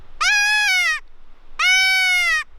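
Two even, drawn-out wails from THE QUOTA predator call, each close to a second long with a steady tone that bends slightly, separated by a short pause and heard close and clear.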